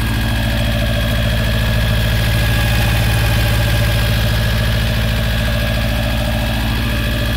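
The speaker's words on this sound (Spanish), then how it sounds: "Ese es su motor." A Volkswagen Beetle engine idles nearby in a loud, steady rumble with an even mechanical throb and no pauses, alone without talk.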